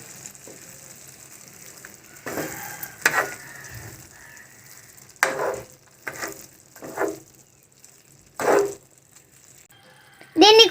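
Mutton keema curry is stirred in a pan with coriander leaves: quiet low sizzling broken by several distinct scraping, mixing bursts from a spoon against the pan, spaced irregularly.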